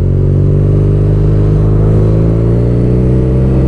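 A BMW R nineT twin-cylinder motorcycle engine runs loud and close, a dense steady rumble held at elevated revs with a deep throbbing tone throughout.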